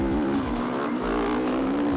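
Sherco FSE 300 trail motorcycle engine held at high revs while climbing a hill, a loud steady buzzing drone with a strong constant tone and small pulses of throttle, close and continuous with no talking.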